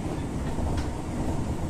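A train rolls past on a railway crossing line, a loud, steady close-up rumble and roar of wheels and cars filling the whole stretch without pause.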